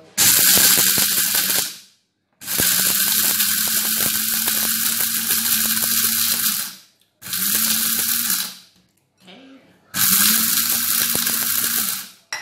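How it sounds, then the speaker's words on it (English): A blender grinds dry spices, including cloves, for a Ghanaian tamarind and ginger drink, running in four loud whirring bursts separated by short silent pauses. "then you blend the dry spices together"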